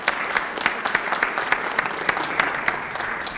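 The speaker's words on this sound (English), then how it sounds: "a big round of applause for On Strategy and Erica." A board of directors meeting audience breaks into steady applause, dense clapping from a room of people sustained throughout, fairly close and loud with no talking over it.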